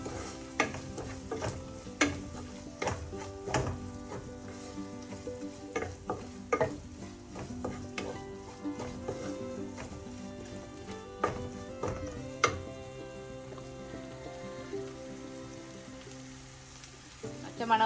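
Masala with coriander powder is sautéed in a pan for Kollam-style mackerel in pepper, a quiet steady sizzle punctuated by many sharp spatula clicks and scrapes against the pan at an irregular, unhurried pace.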